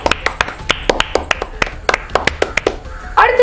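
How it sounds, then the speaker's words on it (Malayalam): A group of children clapping for a correct answer at an Independence Day quiz, with quick irregular claps and a few sharp close hand slaps standing out over the steady patter. "എല്ലാവരും ദിൻഹക്ക് ഒരു കയ്യടി കൊടുക്കൂ."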